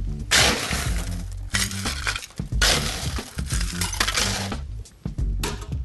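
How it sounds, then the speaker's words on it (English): A martini glass being chilled for a cosmopolitan, with loud repeated clinking and rattling of ice against glass in bursts, close and busy throughout. "So the first thing we'll do is chill our glass."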